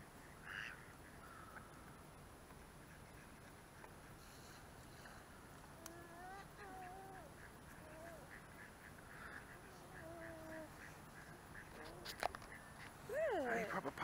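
Ducks quack on the water in spring, with adult ducks gathered around ducklings. The short quacking calls are fairly faint and scattered, mixed with people talking nearby and a louder burst of calls near the end.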